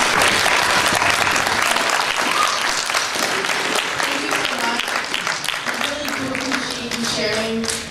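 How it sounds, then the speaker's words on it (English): An audience at a talk on positive thinking gives a loud round of applause that fills the first seconds and then gradually thins out. Voices begin to come through over the fading clapping near the end. "Can we give a round of applause for everybody sharing?"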